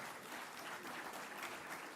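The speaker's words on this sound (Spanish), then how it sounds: "Se merece un aplauso" An audience applauds after a speaker at a geopolitics and foreign trade panel, steady continuous clapping from a crowd, moderately distant and even in level throughout.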